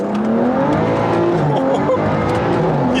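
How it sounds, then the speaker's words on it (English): Wide-body BMW being driven hard, the engine revving and roaring with rising and falling pitch and tires scrabbling, loud and close throughout, with no talking. "it feels good to finally drive the wide body"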